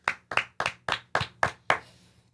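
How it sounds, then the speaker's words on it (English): Seven sharp, evenly spaced bursts of hand clapping from a studio audience on a couch-set talk show, each burst brief and fairly close, fading out at the end. "Don't be afraid to clap."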